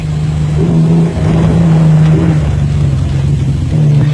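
Nissan Safari off-road race car engine at the 1991 Thaba Nchu Sun 500 off-road race in South Africa, a loud, steady, close engine drone with one brief dip in the middle and no voices.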